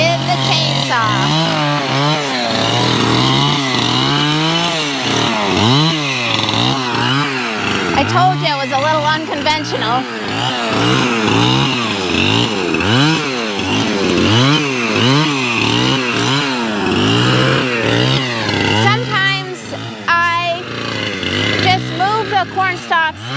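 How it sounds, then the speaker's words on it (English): A loud chainsaw cutting frosted corn stalks roars and revs repeatedly in rising and falling bursts, with a person talking over it throughout. "With the chainsaw."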